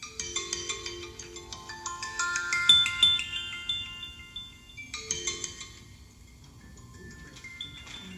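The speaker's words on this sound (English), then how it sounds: "I thought I told you to turn that phone off." A mobile phone ringtone plays out loud during a church Christmas program, a tinkling, chiming electronic melody of repeated bright notes that fades toward the end with no one talking.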